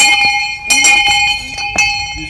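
A bell rings several times during a church adoration service, bright sustained tones recurring in separate strokes with a steady ringing hum between them.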